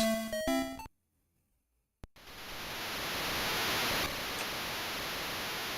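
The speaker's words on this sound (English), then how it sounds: "So rain in this game is a bit more aggressive" A short game melody from Harvest Moon GBC 2 cuts off into brief silence, then steady loud hiss of pouring in-game rain takes over and holds evenly to the end.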